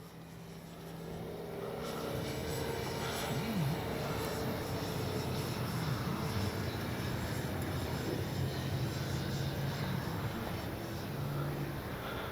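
A Dynam Tiger Moth RC model plane with wing rigging flies in a cross breeze. Its thin, buzzing electric motor whine stays steady and fairly faint at a distance, with a soft wind rush underneath.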